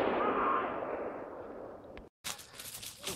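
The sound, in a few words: gunshots during a hunt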